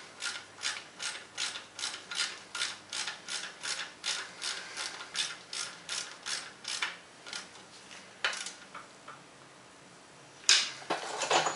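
A ratchet clicks in a steady, fast rhythm while tightening bolts on an OMC outboard motor's lower unit, close and alone. The clicking slows and grows sparse toward the end, then one sharper knock follows.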